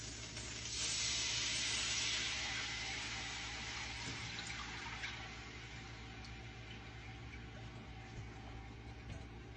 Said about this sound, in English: we're going to take this broth and we're going to pour it into my skillet that has the meat drippings